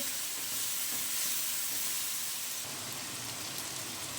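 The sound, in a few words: spices and coriander powder being roasted in a pan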